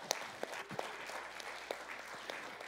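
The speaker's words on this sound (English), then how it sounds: "let's give a round of applause for our parents." Sparse, faint applause from a small church congregation honoring parents, a few scattered claps over a soft, distant room hum.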